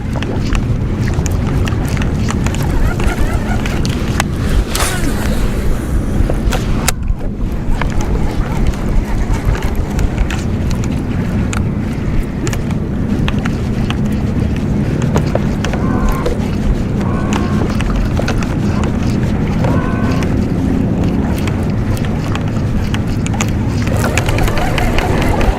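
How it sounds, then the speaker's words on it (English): Strong wind roars and buffets the microphone without a break while fishing from a boat on Lake Guntersville at evening. Water and boat noise are mixed in, and the noise stays loud and close throughout. "Wind's a whipping."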